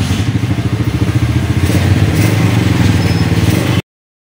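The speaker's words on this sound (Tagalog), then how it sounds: "I-rip natin yung motor." A Honda XR 200 motorcycle engine revs steadily and loudly up close, its noisy timing chain producing a rapid mechanical clatter and ticking under the throbbing exhaust throughout.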